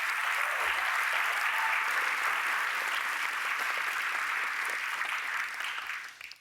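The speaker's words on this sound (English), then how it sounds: "let's hear a big, big round of applause for the incredible Signalites" Keynote audience clapping in a large hall, a steady wash of applause that is fairly soft and distant, holding evenly before fading out at the close.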